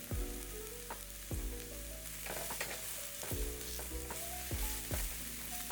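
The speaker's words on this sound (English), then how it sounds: "Non-stick skillet, medium-high heat, add some olive oil, roughly chop and add your onion" Roughly chopped onion fries in olive oil in a non-stick skillet over medium-high heat, a constant crackling sizzle heard close up, with steady background music playing underneath.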